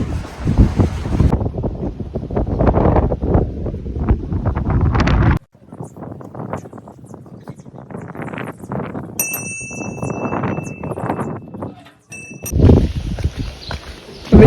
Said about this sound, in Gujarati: એટલો પવન છે મિત્રો